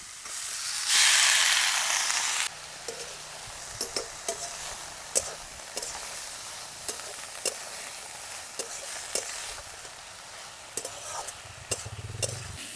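Vegetables with tomato, salt and spices sautéing in a pan, a loud burst of hissing sizzle at first, then a softer steady fry punctuated by sharp spatula clicks and scrapes against the pan.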